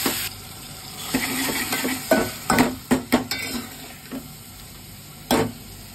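A potato and tomato curry, made without onion, cooks in a pan, with spoon scrapes and clinks against the metal over a soft bubbling sizzle, in irregular bursts at close range.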